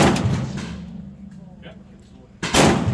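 An AK-47 rifle fires at an outdoor gun range: a sharp, loud, nearby shot with a fading echo, then a second blast about two seconds later.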